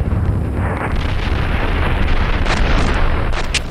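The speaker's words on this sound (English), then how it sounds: "Tons of airstrikes and stuff going on out here in the west." Airstrike explosions in the Steel Beasts Pro tank simulator, heard as a loud, continuous roar of booming blasts and rumbling detonations that blend together into a dense, unbroken barrage.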